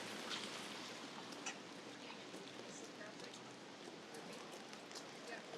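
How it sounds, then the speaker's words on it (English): Steady rain patters all around in a continuous wash, with faint scattered sounds of the surroundings, on a winter city street in Helsinki, Finland. "It's been raining all day"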